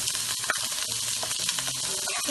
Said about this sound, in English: as you can see, it's sizzling quite a lot